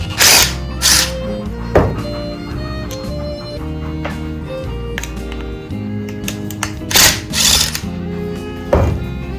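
A power tool whirs in steady bursts while backing out the 7mm screws on the bottom of a lawnmower carburetor bowl, with a few louder spikes as each screw spins free, close and fairly loud.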